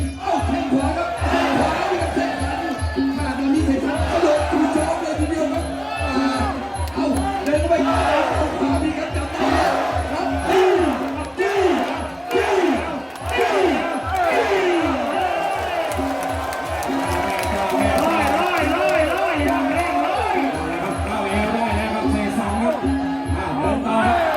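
Crowd of fans cheering and shouting loudly and continuously at a Muay Thai boxing match in the fourth round at Singhanakhon, with a commentator talking over the noise throughout.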